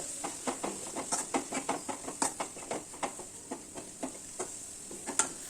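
Curry leaves and tomato frying in a pan for sambar, stirred in an even rhythm of repeated scrapes over a light sizzle and hiss, close and moderately loud.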